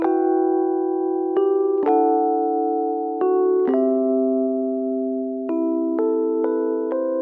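Rhodes electric piano chords shaped with EQ, vintage-style reverb and a delay, sustained harmonic tones changing every second or so with soft attacks, played alone and up close with a warm, mid-focused sound.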